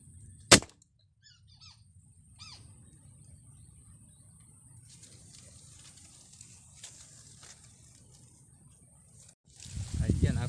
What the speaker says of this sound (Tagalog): pumutok tayo mga kanting nakadal tayo ng isa pulutin natin tikling